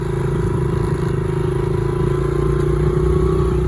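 Honda CRF70 dirt bike engine running steadily on a trail ride, a loud continuous drone with rattling clatter throughout and no talk.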